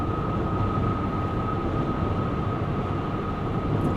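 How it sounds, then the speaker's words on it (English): Cabin of a 2025 Chevy Suburban Z71 cruising on the highway at 70 mph, a steady low road rumble with soft wind rush and a faint constant tone, quiet and unbroken with no talking. "You hear some wind noise, but overall it's like little tire noise"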